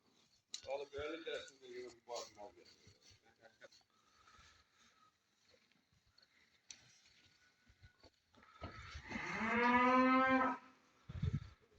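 Calves at a livestock market in Barda let out two drawn-out moos, one early and a louder, longer one near the end, with market chatter and scattered knocks in between.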